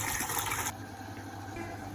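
A washing machine drains water during a deep-cleaning cycle, with a brief louder gush of flowing water settling into a quieter, steady running sound, close by with no talk.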